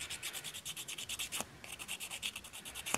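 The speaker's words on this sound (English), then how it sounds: "I will roughen up the top of my nail bed" A fingernail surface is roughened with a nail buffer or file before press-on nails are applied, producing quick, rhythmic, close scratchy rubbing strokes with a brief pause midway.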